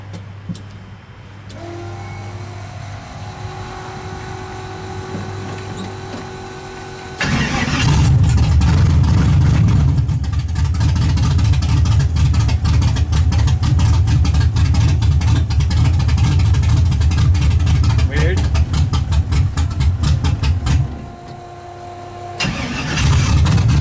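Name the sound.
Chevy Nova engine firing up, running on half the motor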